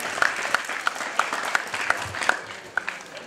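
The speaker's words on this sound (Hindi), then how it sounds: "जोरदार तालियां हो जाए आप सभी के लिए" A school audience at a Rajasthan film festival claps briskly after being asked for loud applause, a dense, even patter with a few sharper individual claps standing out, unbroken by talk.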